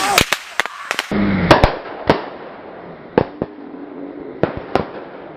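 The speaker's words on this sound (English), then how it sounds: "watching a video of a child playing with fireworks" Fireworks and firecrackers set off by a child pop and crack in a rapid, irregular burst of sharp loud bangs, the reports fading into scattered single cracks over a crackling background.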